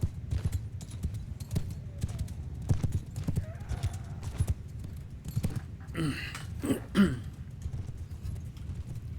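Horses gallop across an open battlefield in the video game Mount & Blade II Bannerlord, with steady clip-clop hoofbeats throughout, a neigh rising near the end amid the noise of the charge.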